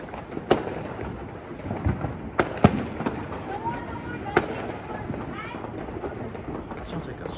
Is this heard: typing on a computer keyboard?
no